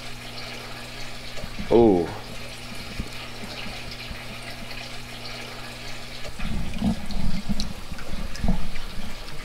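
A sponge filter is lifted out of aquarium water, giving a short splash and trickle of dripping water, with a steady hum of aquarium equipment underneath and a brief vocal exclamation.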